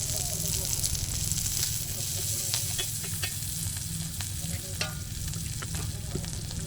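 Pav bhaji frying on a tawa with butter, as in a street-stall style preparation, gives a continuous close sizzle broken by sharp clacks and scrapes of a spatula stirring and pressing against the metal.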